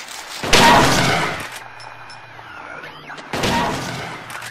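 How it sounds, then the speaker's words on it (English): Gunfire in Silent Hill 2 comes as two loud, harsh bursts of shots, one near the start and one near the end, with quieter scraping and metallic noises between them. "Open fire! Firing has commenced."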